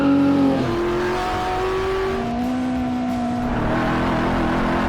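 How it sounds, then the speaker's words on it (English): Ford Mustangs and GT40s lapping a racetrack, engines droning steadily and shifting pitch through gear changes, loud and continuous. "B-roll of cool Mustangs and GT40s going around."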